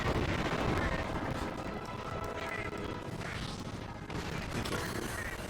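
Big bomb blast in Monster Hunter Generations Ultimate, a dense rumbling roar of explosions and crashing debris that fills the clip, loud and sustained with a voice talking underneath.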